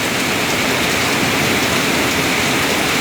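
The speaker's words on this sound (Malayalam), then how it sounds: "പതിക്കുന്ന മഴയുടെ ആരവം നിങ്ങൾക്ക് ഒരുപക്ഷെ ശ്രദ്ധിച്ചാൽ മനസ്സിലാക്കാൻ കഴിയും" Heavy rain pours down on an April afternoon at Anakkal, Kanjirappally, making a loud, dense, unbroken hiss of water striking surfaces, with no voices.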